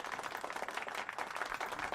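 A group claps for a weight-loss result at a slimming club weigh-in, a fairly faint, steady patter of many hands applauding together for about two seconds.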